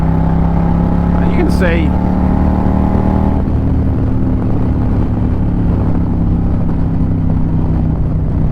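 An Indian 112 PowerPlus motorcycle, a 2025 Challenger or Pursuit, pulls hard under throttle in fifth gear with a loud, steady engine drone and heavy wind roar while the rider briefly speaks over it.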